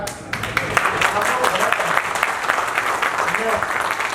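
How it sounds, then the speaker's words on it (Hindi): Steady applause from a crowd fills the whole stretch, a dense continuous patter of clapping at fairly close range with a brief voice underneath. "एक बार तालियां भी बनती है"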